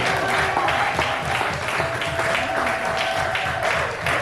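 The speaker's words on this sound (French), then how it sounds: "On peut applaudir pour le Seigneur encore" A church congregation claps for the Lord in a sustained, loud mass of applause with a faint rhythmic pulse, as if partly clapping in time, with a few voices mixed in beneath.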